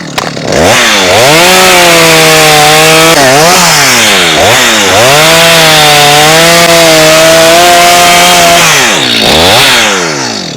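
A chainsaw cuts through a coconut tree trunk, the engine loud and close, whining high under load, dipping briefly several times and then rising again as it bites through the wood.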